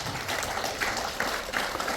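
An audience gives a brief round of applause to welcome a speaker to the podium at an event, with steady clapping and a few sharper claps standing out.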